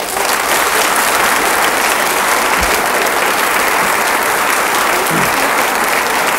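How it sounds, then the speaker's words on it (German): Studio audience at the German TV quiz show Der Große Preis breaks into loud, sustained applause that fills the whole stretch without a break. "mit viel Beifall entlassen"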